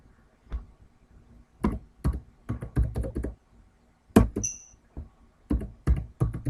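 A computer keyboard being typed on in short irregular bursts of clicky, close keystrokes separated by brief pauses, ending with a firmer key press, with no talking.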